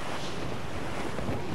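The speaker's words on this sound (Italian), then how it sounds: "Non mi piace quel vento, signore!" Wind and ocean waves roll across the open sea in the video game Assassin's Creed Rogue, a dense continuous roar of surf and gusting air with no speech.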